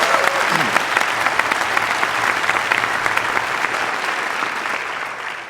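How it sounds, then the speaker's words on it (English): Sustained applause from a large audience in a lecture hall, honoring students, steady dense clapping that fills the space and fades slightly toward the end. "round of applause for the students."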